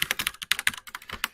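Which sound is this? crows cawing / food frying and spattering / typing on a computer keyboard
typing on a computer keyboard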